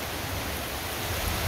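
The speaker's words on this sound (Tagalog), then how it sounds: "Malakas ang ulan diri karon sa Butuan." Steady, dense rain pouring down nearby in Butuan, with some wind, a continuous heavy hiss with a low rumble underneath and no voices.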